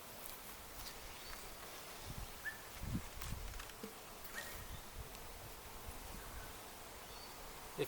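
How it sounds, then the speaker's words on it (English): Bees buzzing around an open beehive during a hive check, a faint continuous drone with occasional louder passes near the microphone and some handling rustle. "Without trying to kill too many busy bees."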